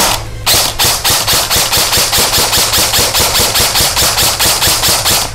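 A Double Bell 033A M4 S-System airsoft rifle fires a rapid, evenly spaced string of about twenty loud, close, sharp shots with no pauses.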